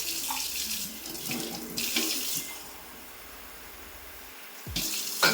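Water runs steadily from a tap into a sink at a household pooja, loud and continuous for the first couple of seconds, then eases to a softer flow before a brief louder splash near the end.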